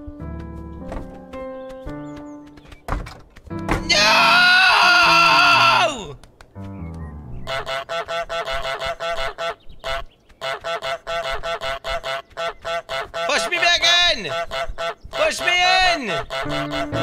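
Honking from the goose in Untitled Goose Game, a video game, loud nasal honks in quick bursts, one long sustained honk and later clusters, mixed with brighter musical notes and plinks and at times overlapping speech.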